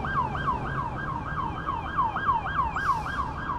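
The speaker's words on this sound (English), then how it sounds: "Looks like there's a police car trying to get through" Police car siren wailing steadily on a village street, a repeating rising-falling sweep that keeps cycling loud against low traffic rumble, with no talking over it.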